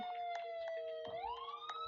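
An ambulance siren in the Roblox game Maple Hospital wails loudly and alone, its electronic tone holding, then sweeping upward.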